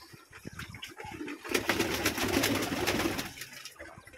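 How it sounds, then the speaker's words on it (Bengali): Several wild pigeons coo in low, rolling calls, close by on a pigeon farm, with a brief rustle of wings and fluttering partway through. "সবগুলোই বুনো কবুতর।"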